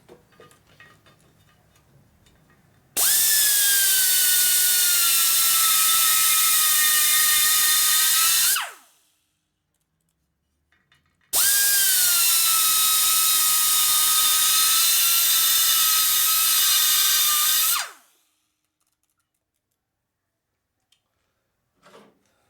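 A high-speed rotary grinder whines loudly in two long, steady runs while V-grooving a crack in the case of a 1947 Harley-Davidson EL Knucklehead 74 ci engine, with quiet pauses between the runs.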